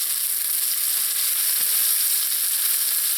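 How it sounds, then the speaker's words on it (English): Chopped onions frying in plenty of hot oil for Sri Lankan chicken curry, a steady close hissing sizzle with no talk. "because we need that for the onions to fry up."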